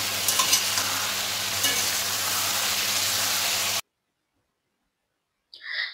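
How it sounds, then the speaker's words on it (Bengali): Mixed vegetables with taro and potato stir-fry in a pan, a steady loud sizzle and scraping stir for several seconds that cuts off abruptly, then silence and a brief faint burst near the end. "এদিকে আমার সবজিটা কষানো হয়ে গেছে"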